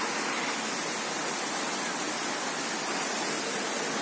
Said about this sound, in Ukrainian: Річка тут є, шумит, місток.